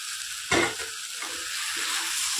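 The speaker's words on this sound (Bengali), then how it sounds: "এবার আলুর সাথে সয়াবিনটাকে ভালোভাবে কষিয়ে নেব 2 মিনিট ধরে।" Soybean chunks and potatoes stir-fried together in a pan, a sharp scrape and hiss as the spatula moves, then a steady sizzling crackle close by.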